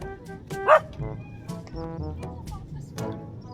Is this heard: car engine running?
no